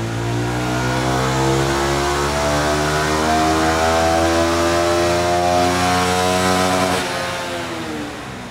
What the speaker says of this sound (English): just running through a throttle cycle to warm the bike up a little bit